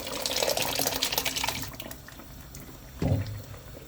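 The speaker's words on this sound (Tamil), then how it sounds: "வேக வச்ச பயிரை வந்து ஊற்றிக்கலாம்." Cooked lentils poured from a vessel into a pot of cucumber sambar, a close liquid splash and gurgle for about two seconds, then a short second splash after a pause.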